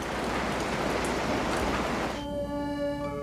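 Cool tropical rain pours down over a Caribbean treasure-hunting site, a steady broadband hiss that stays loud and unbroken throughout, with a soft tonal hum joining in toward the end.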